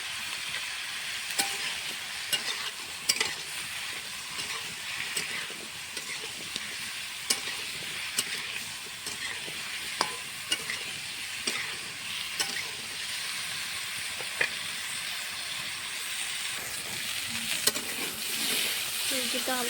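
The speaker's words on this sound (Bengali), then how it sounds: "সবজিটা হালকা করে ভাজা হয়ে গেছে," Mixed vegetables fry in a pan for a vegetarian dish, with a continuous sizzle and regular scraping clicks as a spatula stirs them steadily, close up.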